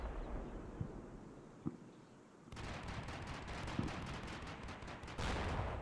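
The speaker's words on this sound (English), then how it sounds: "That looks like 2 TOW hits there." TOW missile hits in a war video game, with distant booming impacts and a sustained rumble of gunfire and explosions that swells to a loud, dense barrage.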